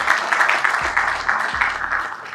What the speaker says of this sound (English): Please give a round of applause to yourselves.